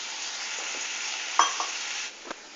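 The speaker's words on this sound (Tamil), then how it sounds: "நல்லா கொதிச்சுட்டு இருக்குல்ல? நல்லா கொதிக்குது." Tamarind water with chillies for a pickle boils in a pan with a steady, hissing bubbling sizzle, broken by a few sharp clinks and taps.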